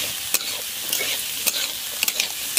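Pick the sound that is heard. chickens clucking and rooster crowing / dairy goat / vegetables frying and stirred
vegetables frying and stirred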